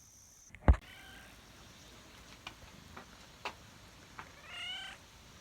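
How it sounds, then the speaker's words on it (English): A gray cat meows outdoors near a cattle pasture on a hot day, a few short, fairly faint calls spread across the moment after a sharp nearby knock, with soft rustling in between. "There goes that gray cat."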